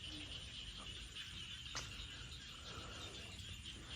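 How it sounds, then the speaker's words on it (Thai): Frogs croaking at night in rural Laos, heard as a dense, steady chorus of insect-like trills and chirps that fills the whole stretch at low, even loudness, with a brief sharper call near the middle. "ฟังเสียงกบเสียงเขียด"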